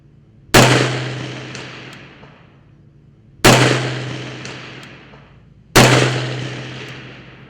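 Three loud, sharp gunshots fired over a barricade at an outdoor range, evenly spaced a few seconds apart, each with a booming report and a long decaying echo.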